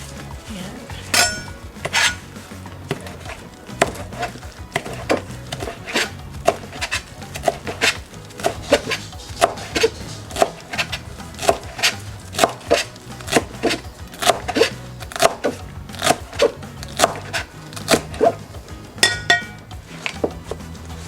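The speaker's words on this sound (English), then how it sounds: "Next thing I want to do is to chop up some fresh" Fresh cilantro being chopped with a knife on a board for shrimp tacos makes a steady run of crisp, close knocks, one after another with small pauses and occasional clinks, loud and with no voices.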